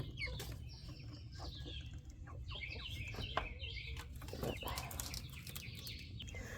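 Soft clucks and chirpy calls from chickens in a backyard coop, scattered and fairly close over a low steady background hum, with no one talking.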